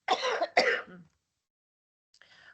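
Two quick harsh coughs, close and fairly loud, by a woman presenting online, followed by silence and then faint distant sound.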